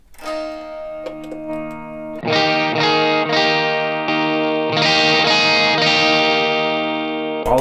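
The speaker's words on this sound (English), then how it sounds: "So here's what it sounds like with just the boost by itself." Clean, loud electric guitar strums and ringing chords through a JHS Kilt pedal's boost alone, adding volume without extra gain, played alone with notes sustaining between strikes.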